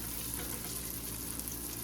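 Asian chicken curry base frying in a pan on the stove, a steady, close sizzle that holds evenly throughout with no talking.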